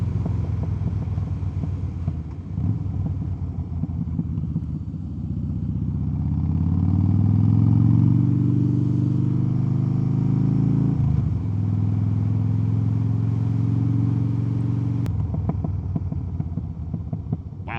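A 2007 Harley-Davidson Softail Deuce rumbles steadily while riding, its deep low engine note rising and falling with throttle and gear changes, close and loud over wind noise, with no talk.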